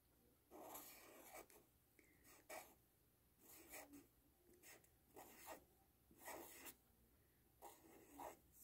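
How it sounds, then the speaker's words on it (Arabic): A pencil scratches across paper in close, quiet strokes while grapes are drawn and labelled, with short scribbling bursts separated by pauses of near silence. "تعالوا نكتب احنا رسمنا ايه نكتبها هنا شوية كده فوق"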